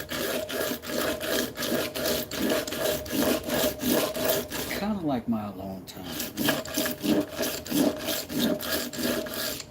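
Steady rhythmic hand sanding of wood, a repeated scratchy rubbing stroke, with someone talking over it and a brief pause midway.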